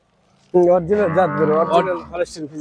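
A black-and-white Friesian-type dairy cow moos loudly and close, one long drawn-out call that wavers and trails off, starting after a brief quiet moment.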